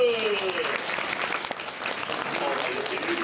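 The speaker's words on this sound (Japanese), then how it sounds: "みんな、ともやに拍手だ。" An audience claps for Tomoya at Disney Sea's Turtle Talk show in Tokyo, with a dense, moderately quiet wash of applause. A voice speaks over the clapping near the start.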